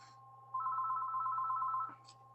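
Telephone ringing in the background during a live online driver-coaching webinar, a steady electronic ring lasting over a second, clear and moderately loud over a low constant hum, with no talking.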